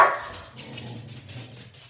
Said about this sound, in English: You can hear the dog in the background.